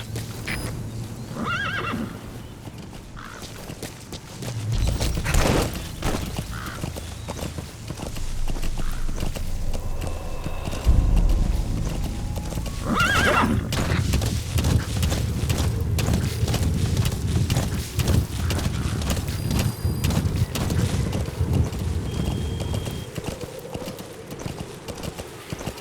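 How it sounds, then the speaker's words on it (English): A horse in the Metal Gear Solid V video game gallops with rhythmic hoof clip-clops and neighs loudly several times over rumbling game ambience, steady and close for most of the stretch. "Use your horse."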